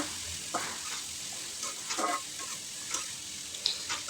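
Shredded cabbage fries in a pan with spices and tomato, a steady soft sizzle broken by several scraping stirs of a spatula, close and moderately loud with no talking.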